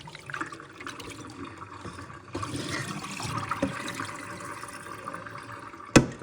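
Running water splashes and gurgles steadily as beef tripe is washed for Puerto Rican mondongo soup, a close, fairly quiet wash of liquid noise that swells midway and ends with a sharp knock.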